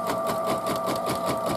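A sewing machine stitching fabric for a mug rug runs in a steady, continuous motorized whir with a fast needle rhythm, close and loud with no pauses.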